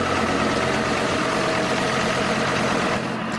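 A steady, continuous tractor engine rumble, unbroken and fairly loud, with no talking, as the tractor reverses a heavy boat trailer down a steep slipway.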